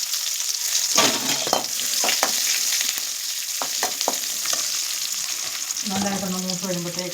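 Sliced onions fry in hot oil over spluttered mustard seeds in a Kerala home kitchen, a loud steady sizzle with stirring scrapes and clinks throughout.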